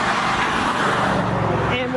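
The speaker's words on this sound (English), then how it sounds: "2 lanes of traffic, and it moves and they don't stop" Cars rush past on a busy two-lane road in Shenandoah National Park along the Appalachian Trail, a steady loud roar of passing traffic with talk over it.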